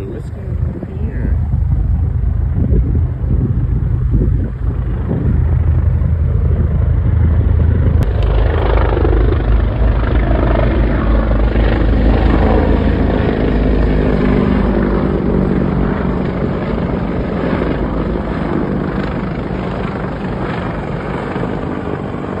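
Several helicopters pass overhead with a loud, continuous rotor thump and engine roar that swells and stays close throughout, dominating the whole stretch.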